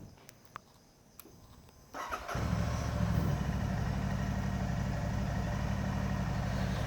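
A motorcycle engine starts after a few faint clicks and quiet moments, catching with a sudden jump in level and settling into a steady, close idle.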